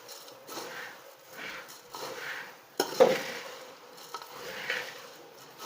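A spoon stirs and mixes chivda snack in a metal pan, making repeated scraping and rustling passes with a sharper clink near the middle, close and moderately quiet.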